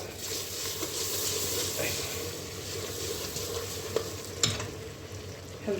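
Ginger, spices, turmeric and ras el hanout are stirred in a pan, a soft, continuous sizzle with scraping stir sounds and a couple of light clinks of the utensil against the pan.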